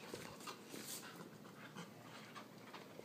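A puppy panting quickly with soft whimpers mixed in, rhythmic breathy huffs close by over faint room noise, no talking.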